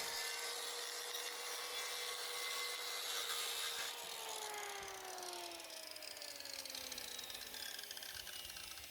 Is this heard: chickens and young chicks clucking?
no